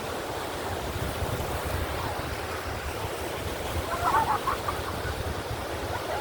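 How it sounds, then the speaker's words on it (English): Ocean waves breaking at Tiscornia Beach, with moderate surf making a steady, continuous wash mixed with wind noise and a brief swell of faint higher sounds near the end. "waves aren't too big,"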